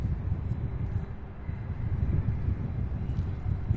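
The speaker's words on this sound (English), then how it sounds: "This is that United flight A319 arriving from" United Airlines Airbus A319 arriving from Houston, Texas at Louisville, a steady distant jet rumble with low broadband roar throughout, no talking.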